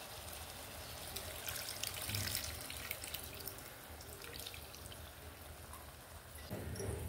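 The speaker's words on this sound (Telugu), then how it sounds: "ఇందులో మనం నానబెట్టి ఉంచుకున్నాం కదా చింతపండు, ఈ రసం తీసి వేద్దాం." Soaked tamarind extract pours steadily into a simmering fish curry of small nethallu fish, a continuous watery trickle and splash close by that swells briefly near the end, with no one talking.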